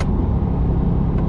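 A 2020 Corvette C8's engine during a quick downshift, heard as a loud, steady low rumble with a brief rise near the end, with no talk over it.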